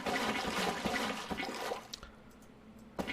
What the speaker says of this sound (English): That's a really interesting sound, filling up buckets.